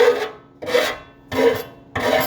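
A handle-less hand file deburrs the metal edge of a home-made steel fuel tank for a front-engine dragster, giving four loud, rhythmic rasping strokes with short pauses between them, close up and with no talk.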